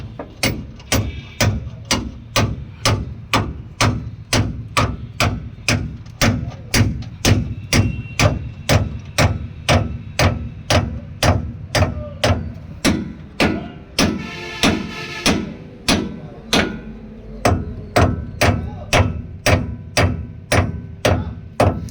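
A Volvo front anti-roll bar link is struck by a hammer in an even, steady series of sharp metallic blows, loud and close, repeating about twice a second with no talk over them.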